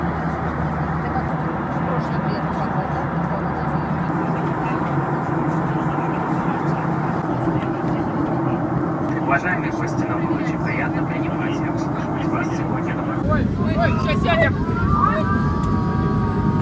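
Airliner cabin noise on landing approach into Kos from Pulkovo: a steady loud engine and air roar fills the cabin, with people speaking over it and a brief rise in mechanical noise near the end.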